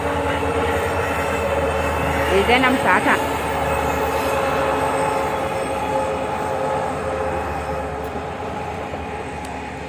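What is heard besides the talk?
passing train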